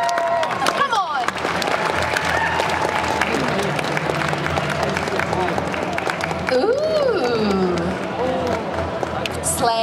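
A Comic Con crowd in Liverpool cheers and applauds a cosplayer, with a sustained wash of clapping, whoops and shouts, and voices talking and calling out throughout.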